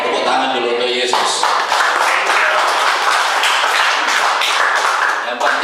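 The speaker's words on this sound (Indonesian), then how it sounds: "Tepuk tangan dulu untuk Yesus." Church congregation claps together, dense and continuous for several seconds, loud and close, with a voice over the start.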